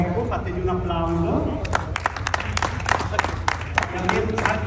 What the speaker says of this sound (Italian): Un ringraziamento al presidente Rocco, fategli un applauso.